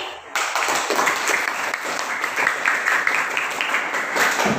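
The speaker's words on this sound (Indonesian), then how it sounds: "Bisa beri aplaus untuk kalian semuanya hari ini." A classroom audience claps for students after their group presentations: a dense, steady wash of many hands that starts abruptly and holds at an even level to the end.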